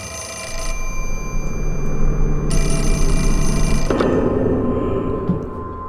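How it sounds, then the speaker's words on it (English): A telephone rings insistently in the video game Fatal Frame 4: Mask of the Lunar Eclipse over a droning background hum, the electronic trill repeating steadily for several seconds without any speech. "Now let's fucking finally answer this goddamn phone."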